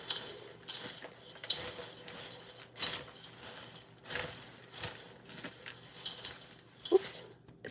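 Popcorn marshmallow cereal treats being stirred in a bowl, giving a run of soft clattering, crunchy scrapes and rustles that come in irregular bursts, fairly close and moderately loud, with no talking.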